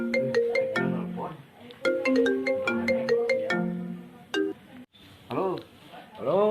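A mobile phone ringtone plays loudly as a repeating electronic melody for several seconds, with bursts of nearby speech and sound effects breaking in toward the end.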